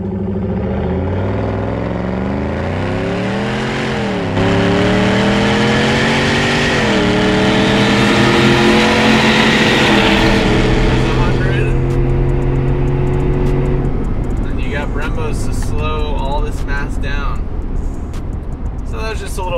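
A supercharged 650 hp GMC Yukon AT4 full-size SUV accelerates hard on a test drive, its engine rising loudly through the gears with a climbing whine, then settling as people talk inside the cabin.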